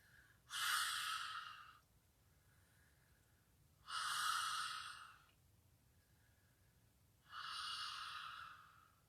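Three breathy 'ha' exhalations during a gentle healing yoga sequence, each about a second long and evenly spaced a few seconds apart, close and clear against a quiet room with no talking.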